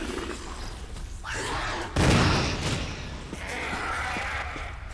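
Shotgun blast in Resident Evil HD Remaster, one sharp loud burst about midway with a short tail, over dim game ambience and scattered thuds.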